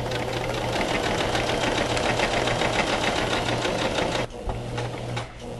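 Sewing machine stitching rick rack trim onto fabric, a loud, close, steady mechanical whir with a rapid rhythmic beat that stops briefly, then resumes more unevenly near the end.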